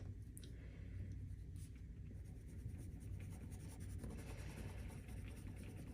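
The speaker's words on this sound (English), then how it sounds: "You dip the watercolor pencil into a jar of water and start painting." Soft scratchy rubbing of a watercolor pencil dipped in water and painted across paper, a faint continuous brushing texture over low background rumble.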